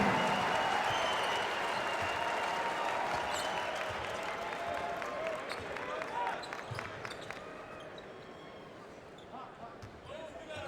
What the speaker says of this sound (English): Get a little bit of a golf clap from this crowd